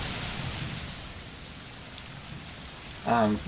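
Rain particle effect in a game scene, with steady broadband hiss of falling rain, moderately loud and continuous, and a short tonal burst near the end.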